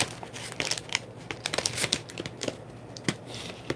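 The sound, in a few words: cutting Midnight and Heather cardstock paper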